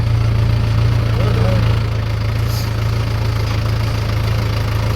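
A Mahindra tractor engine idles loudly and close in a wheat field, a steady low droning hum with a constant pitch throughout.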